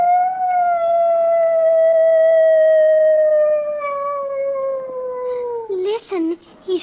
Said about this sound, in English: that's a neighbor's dog, Mr. Hitchford.